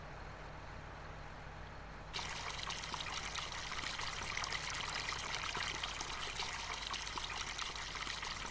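Flowing water from a water point beside a river in Farming Simulator 19 on PS4, Italian rice map: a steady, close rushing hiss that starts abruptly a couple of seconds in over a faint background, then keeps going unbroken.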